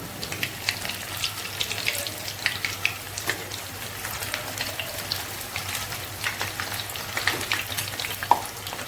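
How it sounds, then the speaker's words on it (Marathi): Manchurian balls fry in a pan with a steady, close sizzle and bursts of crackling spatter, running continuously with no voices. "फ्राय करून घ्यायचे एका बाजूने आणि नंतरच पलटी करायची आपल्याला."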